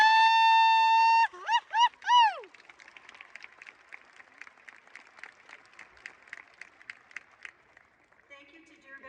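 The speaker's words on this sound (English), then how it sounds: "Please give all our special guests a round of applause." A voice is heard at a Deer Valley High School graduation ceremony, then thin, scattered applause from the audience for special guests patters on quietly for several seconds before another voice begins.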